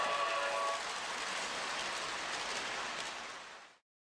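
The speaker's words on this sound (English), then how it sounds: "the roar of a whirring diesel engine, which would change octaves depending on the speed" A steady whirring, rushing roar from a Lionel toy train's diesel engine sound system, fairly quiet and continuous, then fading out smoothly to silence.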